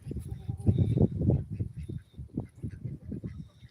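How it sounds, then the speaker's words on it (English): Muscovy ducks on a farm give a busy run of low honking, hissing calls, fairly close and loud, with several birds calling over one another. "Our Muscovy ducks"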